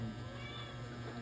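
Domestic cat meowing once, a short, clear, close call held steady over a quiet indoor background, with no voices.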